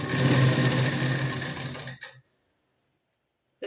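A sewing machine stitches blouse fabric in a fast, steady whir for about two seconds, then stops abruptly, leaving near silence before a faint restart at the very end.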